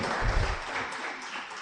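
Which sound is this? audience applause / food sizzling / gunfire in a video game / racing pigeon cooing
audience applause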